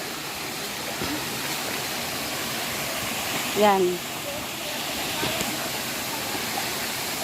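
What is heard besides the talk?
waterfall, falling water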